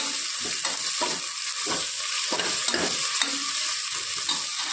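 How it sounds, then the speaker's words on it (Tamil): Ginger-garlic paste being sautéed in a hot pan until its raw smell cooks off: a steady bright sizzle with repeated scraping stirs of a spoon roughly every half second, close and alone. "இதோட பச்சை வாசனை போகிற வரைக்கும் நல்லா வதக்கிக்கலாம்"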